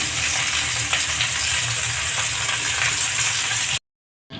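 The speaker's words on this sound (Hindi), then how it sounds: "खुले में ही ऐसे पलट पलट के चारों तरफ फ्राई करेंगे।" Stuffed capsicums fry uncovered in a pan, giving a steady, close hiss of sizzling oil with faint crackles and light stirring, before the sound cuts off abruptly into near-silence just before the end.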